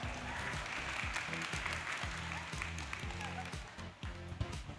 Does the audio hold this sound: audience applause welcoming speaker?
yes